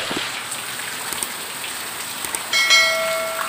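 Steady rain patters and hisses on surfaces throughout, with a brief clinking, bell-like tone rising near the end.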